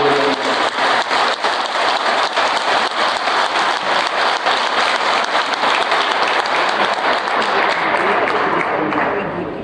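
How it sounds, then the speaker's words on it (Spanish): Loud, sustained applause from a large crowd, dense clapping that holds steady throughout and thins slightly near the end. "les voy a pedir un fuerte aplauso para todo el equipo de trabajo"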